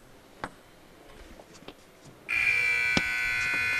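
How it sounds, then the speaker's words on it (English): Partway in, a loud sustained electronic buzzer sounds at a table tennis match to signal time up, following a few sharp clicks and taps in the quiet hall. "And as the buzzer sounds, that's time."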